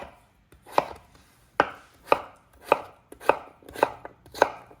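Knife chopping potatoes into cubes on a cutting board, seven sharp, evenly spaced chops close and clear with no talking.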